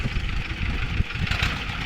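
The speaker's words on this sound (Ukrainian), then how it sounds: "Їдуть мої трактористи." A tractor engine rumbles steadily at close range, a low, continuous chugging drone with no voices.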